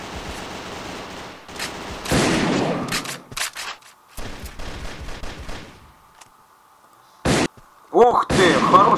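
Rapid bursts of automatic gunfire and single shots ring out in the Contra City online shooter game, irregular clusters separated by brief pauses, with someone talking over parts of the action.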